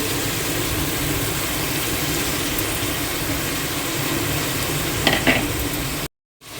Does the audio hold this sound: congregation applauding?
no